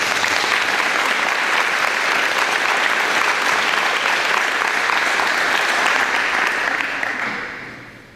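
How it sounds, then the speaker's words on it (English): An audience at a track graduation ceremony claps loudly and steadily for the class members, a dense sustained applause that fades out over the last second. "give a round of applause for our 8 members of the class"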